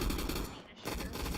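Rapid automatic gunfire from the online shooter game Gun Fight Arena, a dense continuous burst of shots that dips briefly mid-way before resuming, loud and close.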